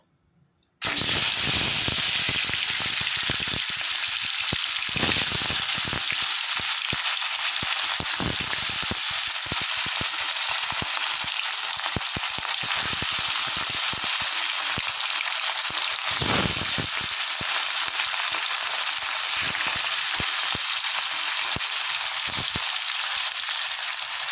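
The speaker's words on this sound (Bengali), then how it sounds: "তেলটা ভালো করে গরম হয়ে গেলে মাছগুলো ভেজে নেব।" Katla fish fries steadily in hot oil, a loud continuous sizzle and crackle that starts abruptly and holds unbroken, with no talk over it.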